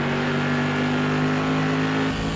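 SK Modified race car in the iRacing simulator, its engine holding a loud, steady, buzzing drone at high revs that drops briefly near the end, with no speech.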